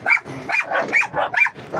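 A dog barks repeatedly in quick, rhythmic bursts, about seven sharp barks close by with short gaps between them, loud and with no talk over it.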